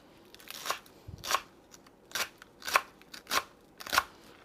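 Beef for fajitas being cut into strips, six or seven separate crisp slicing sounds at a steady, unhurried pace, close by with no talking.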